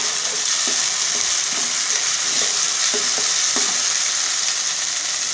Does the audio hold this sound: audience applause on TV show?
no